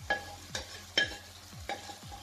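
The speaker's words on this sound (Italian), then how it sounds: "Adesso mischiamo tutto insieme," Mushrooms and beef fillet are stirred together in a frying pan: four or five quick scraping strokes, evenly spaced, over a soft sizzle, close and with no talking.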